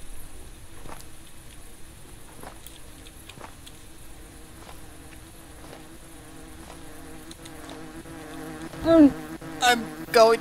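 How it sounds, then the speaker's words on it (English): A swarm of bees in a llama adventure game buzzes steadily and fairly quietly for ten seconds, with louder, closer passes and bursts near the end. "Why are there so many damn bees?"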